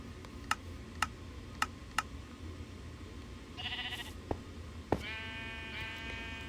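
Minecraft sheep bleats in a lucky block challenge game, a pair of short wavering calls near the end, following a run of sharp, evenly spaced ticks and a brief chime over a low, steady game background.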